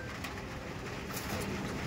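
Madras pigeons brought from Delhi, including a yellow-patched pair, coo softly beneath a steady, loud wash of broadband background noise.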